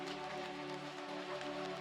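Steady rain falls on a chilly day under heavy clouds over a town, heard through glass as a constant soft hiss with a low hum beneath, no voices present.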